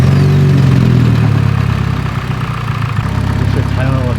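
A Mitsubishi Evo VIII engine runs loud and close at a steady idle, a low throbbing hum that holds evenly with slight fluctuations, with voices talking over it.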